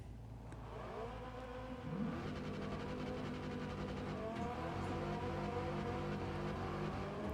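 A heavy Ford Mustang V8 roars in the racing game Wreckfest 2, its engine note climbing steadily through revs as the car accelerates, loud and continuous throughout.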